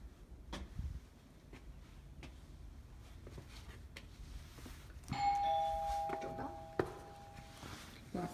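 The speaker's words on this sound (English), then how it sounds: "Doorbell." A doorbell at a house's front entry chimes with clear ringing tones partway through, after some quiet handling noises and soft knocks in a room.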